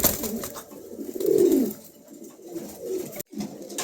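Danish pigeons cooing, a pair with white plumage, red markings and pale eyes: soft, low throaty coos come close and clear in a few rolling phrases, with no one talking.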